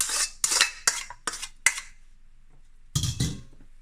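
Spinach is stirred into a bacon and green onion quiche filling in a bowl, giving a series of scraping, clinking utensil strokes against the dish with a short pause before a final burst.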